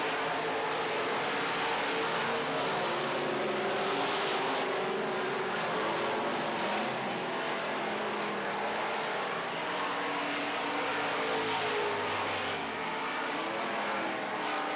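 Midwest Modified race cars roar around a dirt oval track in a feature race, a dense, continuous wash of engine noise heard from the stands, loud and steady throughout, with no talk.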